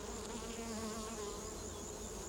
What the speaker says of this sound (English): The native bee doesn't have a sting, and he looks like a little fly